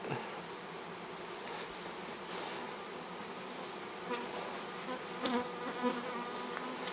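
A swarm of honey bees lands at an apiary in late August, a dense, continuous buzzing drone filling the air nearby with a few louder passes of individual bees close by.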